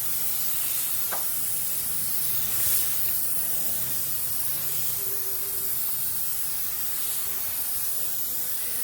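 A spray gun lays a second coat of base coat paint on a car during a small-spot body repair, a steady close hiss of atomized spray that runs continuously and alone.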